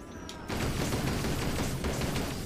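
Turret gunfire in Toy Soldiers erupts after a quiet half second into a continuous loud rattle of rapid shots, with a short break before the firing resumes.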